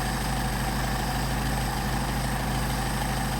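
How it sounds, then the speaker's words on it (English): A Mercedes 190SL engine with Solex 44PHH carburetors idles steadily and loudly up close, running roughly with a faint stumble in its otherwise continuous rumble, and no voices. "Engine's starting to stumble again"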